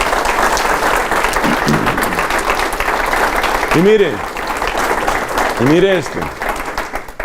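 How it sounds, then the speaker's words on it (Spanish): Applause from a church congregation fills the whole stretch, steady, dense and fairly close, while a voice talks over it. "démosle un aplauso a Jesús porque nos ha amado"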